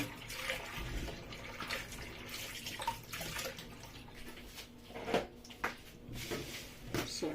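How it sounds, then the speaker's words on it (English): Peeled beans being washed in water, with irregular swishing and splashing and occasional knocks of a container or sifter, close and moderately quiet. "So guys, I'm going to wash my beans."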